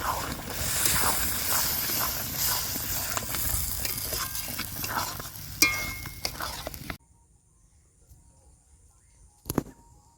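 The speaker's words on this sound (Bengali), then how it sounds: "একটু জল দিয়ে মশলাটা খুব ভালো করে কষে নেবো যাতে পুড়ে না যায় মশলাটা।" Spice paste fries with a splash of water in a pan for a fish curry with drumsticks and potatoes, hissing and sizzling loudly under stirring scrapes for about seven seconds before cutting to near silence with a faint click.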